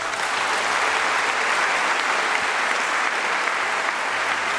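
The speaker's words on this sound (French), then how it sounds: "On acclame pour lui." A church congregation breaking into sustained applause, a dense, steady clapping wash filling the space from start to end.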